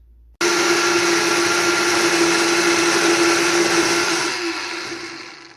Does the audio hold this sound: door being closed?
no